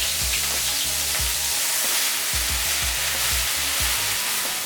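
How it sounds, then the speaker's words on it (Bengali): Chopped onion with small cardamom pods and a clove crackles in hot mustard oil, a strong continuous sizzle with soft knocks of stirring at intervals. "তেল গরম হলে এর মধ্যে আমি দিচ্ছি 2টো ছোট এলাচ, 1টা লবঙ্গ আর দিয়ে দিলাম পেঁয়াজ কুচি।"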